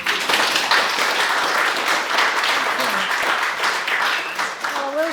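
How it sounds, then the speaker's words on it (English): An audience claps steadily in a dense, sustained round of applause, with a faint voice briefly audible near the end. "So we could give her another round of applause."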